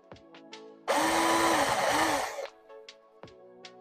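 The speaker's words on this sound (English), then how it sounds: "it helps to have a guide hole just to get started" A power drill whirs loudly for about a second and a half, its pitch dipping twice as it bites into wood, with quiet clicks before and after.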